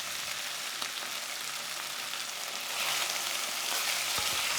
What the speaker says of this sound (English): Sear the beef for 1 to 2 minutes until slightly brown.